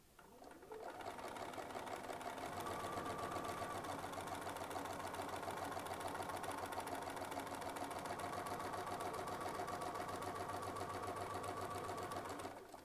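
A sewing machine stitches in one continuous run, its fast, even motor whir and needle chatter starting after a brief pause, holding steady and close for about eleven seconds before slowing to a stop.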